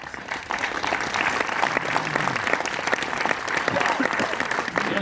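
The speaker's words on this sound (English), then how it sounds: "A round of applause to Mr. Ghani." An audience at a leadership camp applauds, a dense, steady wash of clapping from many hands sustained throughout, moderately distant and without a break.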